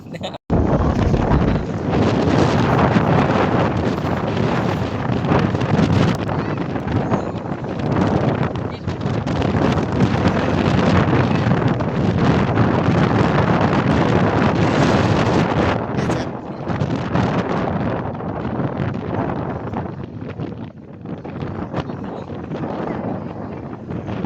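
Strong wind roars and buffets the microphone almost nonstop, loud and close, with a voice faintly present beneath the gusts.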